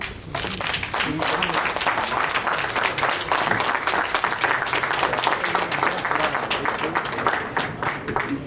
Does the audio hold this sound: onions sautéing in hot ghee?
no